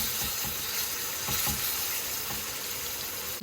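Chicken breast pieces sautéing in vegetable oil in a pan over medium-high heat, a loud, close, continuous sizzle and crackle with small popping bursts throughout, no voices.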